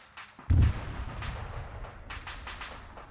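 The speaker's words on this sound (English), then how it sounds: "We're hearing some secondary explosions from these cars" Secondary explosions of cars in Arma 3 boom loudly, a deep blast followed by a rumbling tail and scattered distant cracks and pops.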